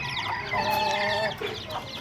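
Hens clucking in a cage after a pecking fight, several birds calling close by in overlapping, rising cackles with no talk over them.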